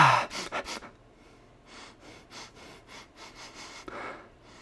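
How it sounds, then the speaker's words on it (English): Close, repeated sharp sniffs of a green energy drink, a quick cluster of loud inhalations followed by a slower series of softer sniffs and breaths, alone without talk. "We got to kick it off with a sniff test."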